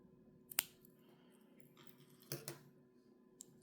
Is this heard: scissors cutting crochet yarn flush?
yes